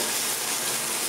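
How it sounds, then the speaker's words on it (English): Loud, dense, continuous hiss of oil and butter sizzling in a hot frying pan, close up and unbroken. "Look at that sizzle, sizzle,"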